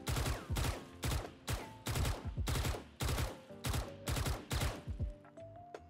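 A Phantom rifle in a video game fires about a dozen loud, sharp shots in quick bursts and single taps, each with a short ringing tail, with no talking over it.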